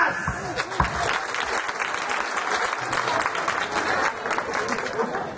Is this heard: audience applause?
yes